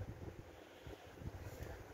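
Wind gusting around a small home-built wind turbine during a generator test, a steady low rumble buffeting the microphone with slight swells in strength.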